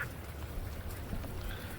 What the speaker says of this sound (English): enjoy all the noise of these ducks that I came across